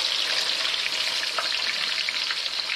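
A crispy Thai omelette (khai jiaow) sizzles in hot oil just after being flipped, giving a close, steady crackling hiss with tiny pops throughout and no talking.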